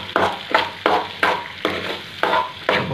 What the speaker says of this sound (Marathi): टॅमॅटो सॉस टाकून झालेला आहे, तर आपण मिक्स करून घेऊया